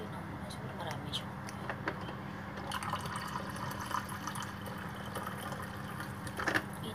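Water poured into chocolate cake batter in a home kitchen, a steady watery fill that runs throughout under close conversational talk.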